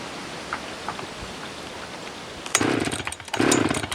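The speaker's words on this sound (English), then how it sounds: "set the brake, hold the throttle open, and give her a pull" A chainsaw pull-started with the chain brake set and throttle held open while cutting a pole-size hickory: quiet rustling, then the engine suddenly catches and roars loudly in two bursts with a brief dip between.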